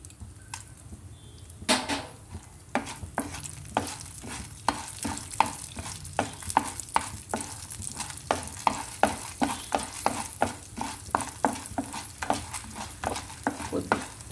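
Chana dal frying in oil in a pan for ginger chutney, a low sizzle under rapid, regular clicks and scrapes of a spatula stirring against the pan, close and continuous with no talking.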